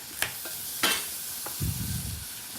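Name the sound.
sizzling pan as the dish is flambéed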